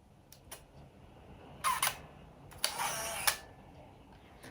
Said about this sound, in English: The shutter is extremely quiet. You can hardly hear the shutter